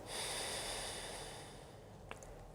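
A single soft, steady exhale through the right nostril during alternate nostril breathing, heard close and quiet, fading out, with a small click near the end.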